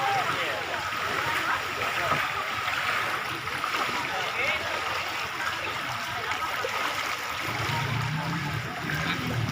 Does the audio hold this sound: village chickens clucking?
no